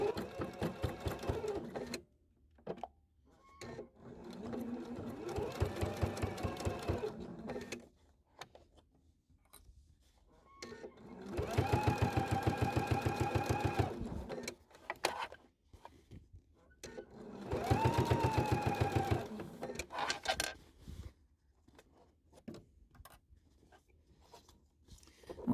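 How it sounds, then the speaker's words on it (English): Sewing machine stitching around the seam of a fabric leaf bag with a lengthened stitch, running in three steady bursts of several seconds each with quiet pauses between, close and clear. "I can use the edge of my presser foot as my guide as I go all the way around."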